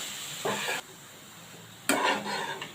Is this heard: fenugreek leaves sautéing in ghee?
yes